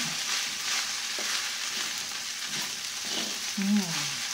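Fried rice (sinangag) sizzles steadily in a hot pan with a splash of fish sauce added, as a utensil stirs and scrapes through it in scattered strokes; a brief louder clatter comes near the end.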